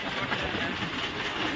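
A train in Mumbai rolls past with a steady broadband rumble and hiss, close and continuous for the whole short stretch, with faint clattering texture and no clear talk.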